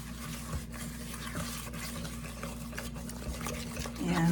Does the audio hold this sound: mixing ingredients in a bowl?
yes